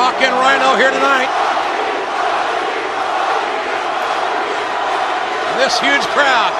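Large arena crowd at a televised pro wrestling event roars and cheers steadily throughout, a loud dense wall of noise with shouted voices and an announcer speaking over it.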